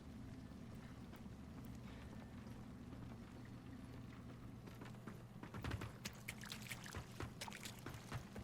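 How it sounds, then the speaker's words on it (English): A character wades through water in the Lords of the Fallen video game, with quiet ambient noise at first and then a burst of sloshing, splashing steps in the final few seconds. "I like the way the water sounds when she's walking around in it."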